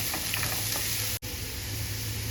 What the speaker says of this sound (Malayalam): അരിഞ്ഞു വെച്ചിട്ടുള്ള ഉള്ളിയും ആ ബാക്കി പച്ചമുളകും കറിവേപ്പിലയും കൂടെ ഇതിലേക്ക് തട്ടിയിട്ടിട്ട് നന്നായിട്ട് ഒന്ന് വഴറ്റിയെടുക്കാം